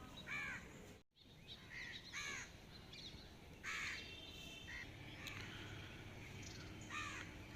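Crows caw repeatedly in the early morning of a winter day near a mango tree, their harsh calls coming in short bursts and sometimes overlapping, fairly close, over a low steady background with no talking.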